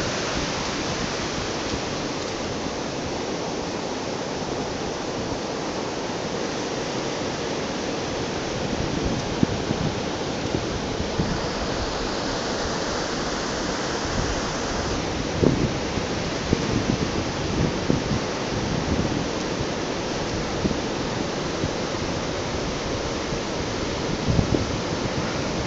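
Ocean surf at Sennen Cove beach in Cornwall, a continuous broad roar of breaking waves heard alone, steady and fairly loud with occasional swells.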